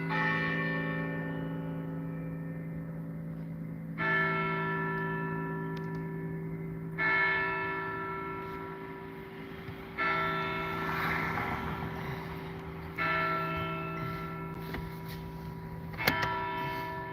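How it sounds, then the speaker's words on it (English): A church bell tolls slowly, with about five strikes roughly three seconds apart, each strike blooming over a long, ringing hum that carries on between them. The bell sounds moderately distant and no one speaks. "Let's wait for this bell to end here."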